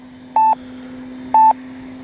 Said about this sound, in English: Timer expired.